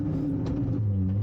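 A rally car engine with a sequential gearbox drones at steady revs, then its pitch drops to a lower tone as a gear changes, heard from onboard as a continuous close rumble.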